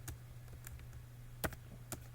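Keystrokes on a computer keyboard while working in DOS, scattered soft clicks at an uneven pace over a steady low hum, with no talking.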